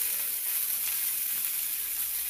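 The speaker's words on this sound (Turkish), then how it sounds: "Toplam 3 dakika her iki yüzünü kızarttık." Steady, dense sizzling of meat for Turkish meat pilaf frying in a hot pan, close and continuous with no talking.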